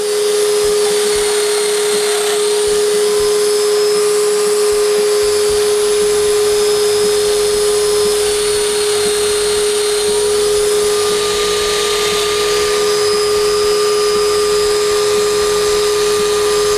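A domino joiner cutting joinery into wood for a six-drawer dresser, a loud, continuous high-pitched motor whine with a steady tone and a slight cutting rasp, close up and unbroken.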